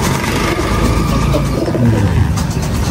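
Pigeons coo as they make their way into the loft, low burbling calls repeating close by over a busy, steady background, with no one speaking.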